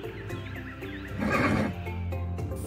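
A horse whinnies loudly in one long, wavering neigh, close up, with quieter snorting and shuffling around it.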